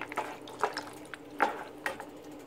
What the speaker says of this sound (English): Then you're just going to mix it all together.